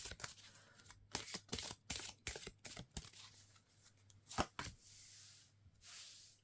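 Tarot cards being shuffled and riffled in repeated bursts of crisp slapping and fluttering, close and fairly loud, with a brief smooth sliding swish near the end and no voices.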